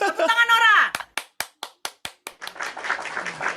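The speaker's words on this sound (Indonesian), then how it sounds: "Tepuk tangan Nora." Clapping for Nora at a religious public gathering: a voice is heard first, then about eight sharp, separate claps in a quick, even rhythm, close and fairly loud, before a busier noisy tail.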